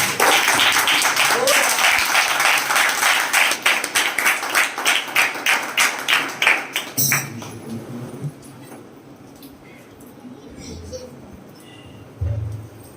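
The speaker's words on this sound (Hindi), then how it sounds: "आप सब बैठ जाएं, उससे पहले प्रभु के लिए जोरदार ताली बजा दें" A church congregation claps loudly for the Lord before sitting down, a fast, rhythmic burst of hand claps that is strong at first, then thins into scattered claps and fades, with voices murmuring underneath.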